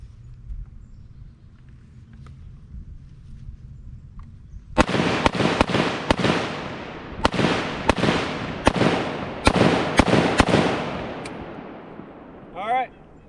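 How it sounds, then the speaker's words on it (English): An unsuppressed .308 rifle fires about eight sharp, loud shots outdoors at irregular intervals, each one a hard crack with a short echoing tail, after a quiet low hum. "There you have it, 308 unsuppressed."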